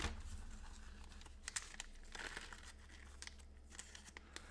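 Plastic bag crinkling and rustling while packing the pieces of a Dead Cells board game, a soft, continuous crackle with a few sharper crinkles, fairly faint and close by.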